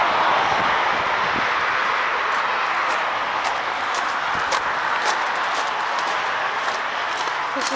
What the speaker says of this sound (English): You're going to hear noise from the parkway.